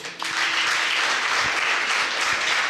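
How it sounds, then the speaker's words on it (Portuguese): A church congregation gives steady, dense applause at a worship service, an even wash of many hands clapping that holds for a few seconds without talk. "Eu quero que você dê uma salva de palmas para o Senhor."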